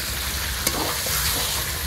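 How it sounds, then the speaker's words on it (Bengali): Chicken curry being stirred as it fries down in a pan before water goes in, a dense, loud sizzle with a brief scrape of the spoon near the start, no voices. "এবার কিছু সময় নাড়িয়ে আমি জল দিয়ে দেবো।"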